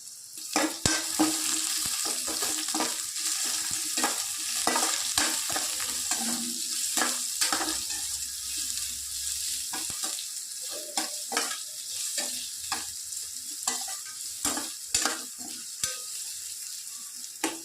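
Chopped big onions sizzle steadily in hot oil in a pan for beetroot sambar, with repeated scraping stirs and spoon knocks against the pan throughout, close and fairly loud, no voices.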